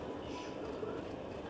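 A passenger train rolls along, heard from inside the carriage as a steady low rumble and hiss with faint rattling.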